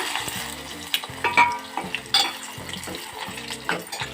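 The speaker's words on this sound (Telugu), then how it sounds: "కరివేపాకు వేసాను" Curry leaves crackle and sizzle in hot peanut oil, close and moderately loud, with bursts of spitting and a series of rhythmic stirring scrapes against the pan.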